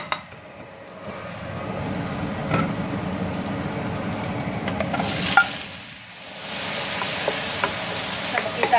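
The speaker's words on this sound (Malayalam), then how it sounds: "എന്നിട്ട് ഇതിലേക്ക് തക്കാളി ഇട്ട് വേവിച്ചെടുക്കാം." Tomatoes for butter chicken cook in a pan with a steady soft sizzle, and a spoon stirs them with scraping and clinking now and then, all quite close and without voices.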